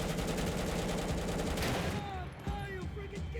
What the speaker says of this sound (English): I'm shooting him in the chest,